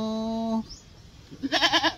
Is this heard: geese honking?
no